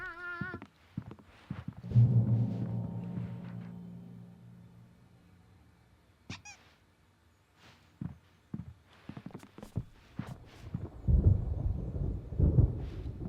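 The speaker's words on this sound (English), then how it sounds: "There's a storm coming. Oh, what a storm." Thunder rolls through a stormy night in the game Alan Wake Remastered, a low rumble swelling then fading, followed by sharp cracks and a heavier burst of storm noise near the end, with no talk.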